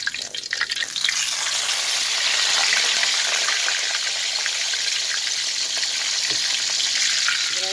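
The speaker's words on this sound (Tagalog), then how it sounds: "Magluto pa tayo ng magprito tayo ng bulad dried salmon." Small dried salmon (bulad) frying in oil in a pan: a loud, continuous crackling sizzle with a dense spattering hiss, heard up close with no talking.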